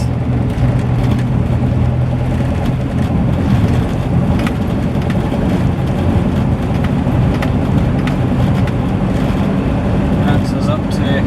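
A Morris Marina accelerating in third gear from about 20 mph, with a loud, steady engine drone and road rumble that continue close up and unbroken throughout.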